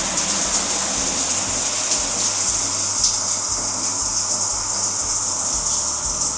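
A shower running in a luxury yacht bathroom, a steady loud hiss and gush of spraying water that continues evenly throughout with no voices.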